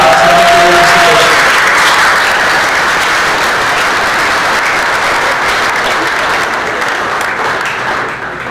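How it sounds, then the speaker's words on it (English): A forum audience in a hall applauds candidates, a dense wash of clapping that holds loud throughout and tapers slightly toward the end. "Please give them a huge round of applause"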